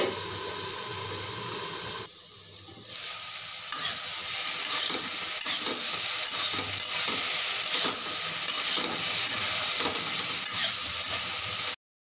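Eggplant stirred and frying in a pan for a poppy-seed dish, a steady close sizzle and hiss with scraping stir strokes throughout, a brief dip in the sizzle early on, no talking.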